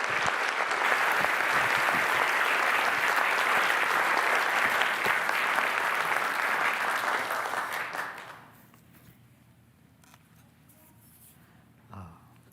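A church congregation at a Sunday worship service bursts into loud, sustained applause that fills the room, then breaks off abruptly, leaving quiet room tone and a brief bump near the end.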